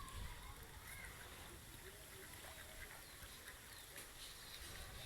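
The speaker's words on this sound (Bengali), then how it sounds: "খুব সুন্দর আমার হাঁসগুলো খাচ্ছে একসঙ্গে, আপনারা দেখতে পাচ্ছেন শামুক খাচ্ছে সবাই।" A flock of domestic ducks feeds on snails together in water, with steady low splashing and dabbling and occasional faint quacks, heard quietly from a short distance.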